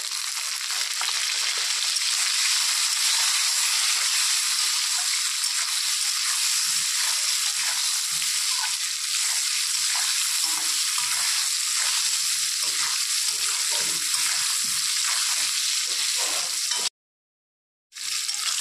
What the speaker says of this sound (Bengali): পটল ভাজা হয়ে গেছে, এখন এগুলো উঠিয়ে নেব।